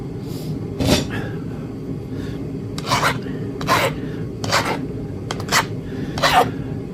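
A flint point's edge is sharpened by abrasion in preparation for fluting a Clovis point, heard as a series of short, close scraping rasps at uneven intervals over quiet background.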